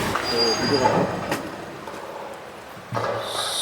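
A train pulling into Rameswaram station, with a steady rumbling rail noise that eases off and brief metallic squeals, followed by a sudden burst of louder clatter near the end.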